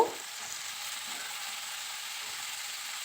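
Ingredients sizzle and fry in a cooking pot while being stirred, a steady broad hiss with a couple of faint soft scraping touches, moderately quiet and without talk.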